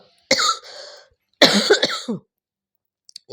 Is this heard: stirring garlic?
no